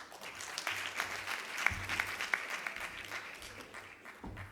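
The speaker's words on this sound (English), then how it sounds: "let's give another round of applause to our kids here" Faint, distant audience applause at a conference, a thin scattered patter of clapping that carries on steadily for several seconds with no voices over it.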